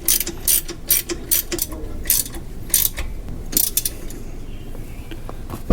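A ratchet tightens the nut on a sway bar endlink of a Jeep Wrangler JL Unlimited, with bursts of rapid clicking repeated in short strokes, close and fairly loud.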